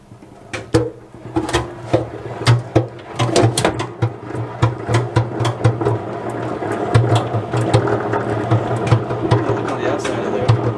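A honey extractor loaded with four frames whirs and rattles with a steady mechanical hum, with clunks and clicks from the spinning drum and a person talking nearby.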